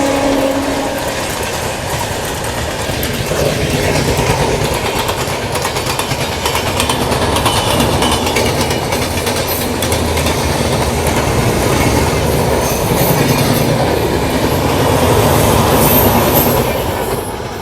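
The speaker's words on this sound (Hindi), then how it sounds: "क्या क्रॉसिंग हो रही है भाई।" An Indian passenger express train rolls past another train on a curving track near Gonda Junction, a loud continuous rumble of wheels clattering over rail joints with faint squeals, sustained and close throughout.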